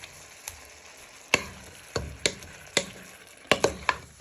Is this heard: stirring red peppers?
yes